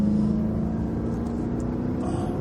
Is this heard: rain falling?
no